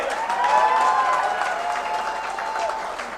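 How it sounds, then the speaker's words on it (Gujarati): An audience at a family meet bursts into sustained applause, a dense, loud wash of clapping that swells early and holds steadily to the end. "તો એક ખૂબ જોરદાર તાળીઓ આંટી માટે થવી જોઈએ."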